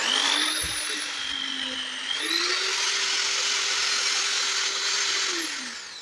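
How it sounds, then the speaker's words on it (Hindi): A handheld drill machine spins a welding pen electrode while sandpaper cleans it, giving a steady high-pitched motor whine that shifts pitch midway and runs continuously at close range before winding down near the end. "अब हम इस ड्रिल मशीन में लगा के और सैंड पेपर से इसको क्लीन कर लेते हैं"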